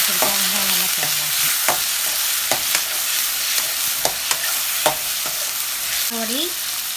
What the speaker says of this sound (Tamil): அந்த எண்ணெய்க்குள்ளே கத்திரிக்காய் போட்டு நல்லா திருப்பி விடணும்